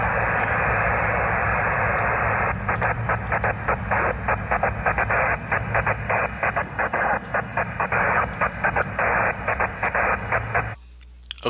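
Nearby station interference on the 15 meter band, heard as a loud steady hiss of radio noise, then keyed on-off CW bursts chopping it into rapid rhythmic pulses before the signal cuts out abruptly.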